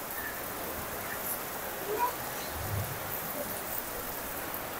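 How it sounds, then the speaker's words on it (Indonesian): Steady rain falls at a beach hotel in Jepara, an even, continuous hiss of drops on surfaces with no pauses, moderately loud and close. "Ya kan, nggak jadi kan, hujan terus kan?"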